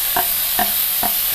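Curry leaves, chili, ginger and garlic sautéed in a pan: three evenly spaced stirring scrapes of a spoon sound over a steady frying hiss, close and clear, with no voices.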